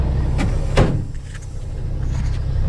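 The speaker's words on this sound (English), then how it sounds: "Guess I better close the door." A car door swings shut once with a single solid thump near the start, followed by faint rustling and quiet shuffling inside the vehicle.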